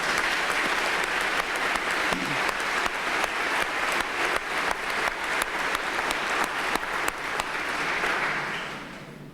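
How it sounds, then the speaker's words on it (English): Sustained crowd applause fills a police academy graduation ceremony, dense steady clapping from a large audience that holds for about nine seconds before tapering near the end. "Please give them a round of applause."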